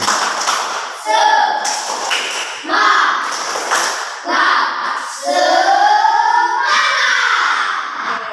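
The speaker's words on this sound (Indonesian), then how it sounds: "Kita akan tepuk untuk memberikan semangat motivasi kita untuk ke depannya." A classroom of students performs a rhythmic Indonesian spirit clap, loud bursts of hand claps in patterned groups, mixed with children's chanting voices throughout.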